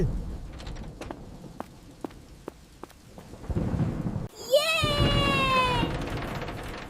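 A thunderstorm with strong wind begins at home: sharp knocks and creaks give way to a rising rush of wind and rain. A sudden loud crack follows, then a falling, whistling whoosh that keeps roaring.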